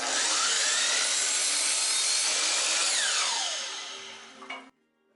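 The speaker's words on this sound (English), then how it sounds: "Cut a piece of 1-inch wooden dowel 12 inches long." A hand saw cuts through a 1-inch wooden dowel with steady, close, loud rasping strokes that stop abruptly near the end, leaving brief silence.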